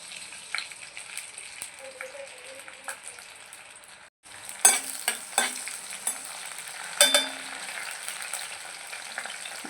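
Green chillies drop into hot oil in a kadai: a quiet hiss, a sudden break, then a loud, close sizzle with crackling bursts and stirring scrapes.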